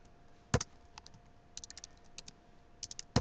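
Keys on a computer keyboard are pressed in short, uneven bursts of crisp clicks, heard close and quiet with pauses between groups of strokes.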